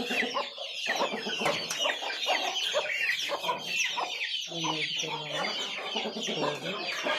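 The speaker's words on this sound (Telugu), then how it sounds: "అక్కడ పిల్లల కోళ్ళు ఉన్నాయి." Hens clucking close by, with overlapping calls and soft peeps of chicks, continuous and busy throughout.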